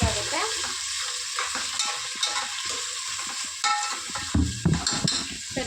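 Ingredients for tomato bath fry in a pan while being stirred, a steady close sizzle with repeated scraping strokes of the spoon that stay fairly loud throughout, and no voices.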